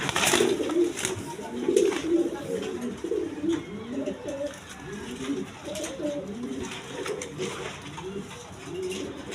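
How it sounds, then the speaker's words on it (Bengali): A pair of black-colored satin pigeons coo repeatedly up close, low rolling calls overlapping in a steady rhythm over a soft background hiss. "এখানে এক পেয়ার ব্ল্যাকলেস কালার শার্টিং কবুতর আছে"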